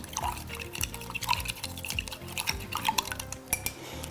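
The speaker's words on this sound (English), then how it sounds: "And we'll just stir that up again." Oral rehydration solution of water, sugar and salt being stirred in a container, with repeated clinks and scrapes of a utensil against the vessel and some liquid sloshing, close and moderately loud with no talking.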